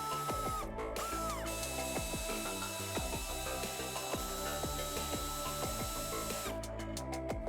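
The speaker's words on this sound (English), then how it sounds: "Remove the 4 retaining bolts holding the shroud in place." A hand ratchet loosens the fan shroud retaining bolts on a Dodge 5.9L V8, making fast, steady metallic clicking that runs almost without a break, close by and clear.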